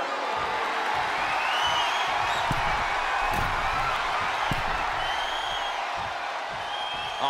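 Arena crowd in the WWE 2K wrestling game, a steady broad roar of cheering that holds at an even level throughout with scattered louder bursts.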